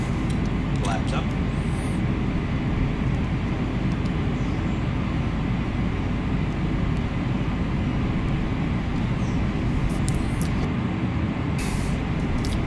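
The engines of a PMDG MD-11 airliner in a flight simulator make a steady, loud, low rumbling drone throughout, with faint clicks and brief sounds over it near the start and end.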